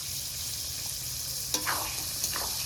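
Ground cumin sizzles in a pan of mutton curry with potatoes, a soft steady frying hiss with a couple of brief scraping stirs, no talking.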